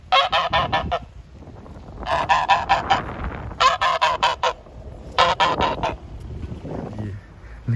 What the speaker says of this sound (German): Und hier sind die Gänse